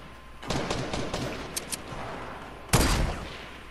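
Video game gunfire in a woodland firefight, two loud bursts of rapid shots about two seconds apart with a few single cracks between them, close and alone with no talking.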